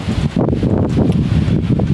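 Strong wind blows beside a canal, buffeting the microphone with loud, continuous gusty rumbling and rustling and no voices.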